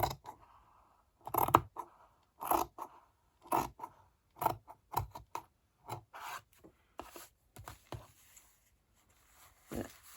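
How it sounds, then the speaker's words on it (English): Scissors snipping a frayed edge off a sheet of paper for a handmade journal, a run of crisp, close cuts in an uneven rhythm with short pauses, no talking. "I'm going to cut that sort of frayed edge off."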